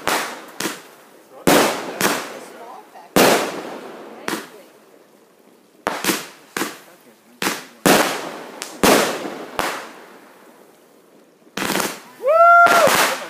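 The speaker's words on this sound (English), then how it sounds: "Nice box of fireworks." A rapid series of sharp, loud fireworks bangs and crackles at irregular intervals, with a couple of whistling rockets rising near the end.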